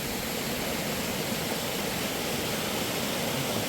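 An underground waterfall inside an abandoned mine, a steady, dense roar of falling water that fills the space evenly and stays constant with no breaks.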